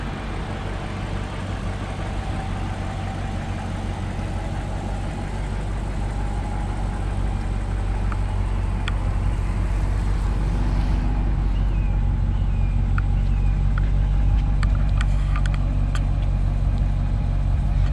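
A BMW 750i sedan's engine idles with a steady, low, smooth hum close by, and a few faint clicks and taps appear toward the end.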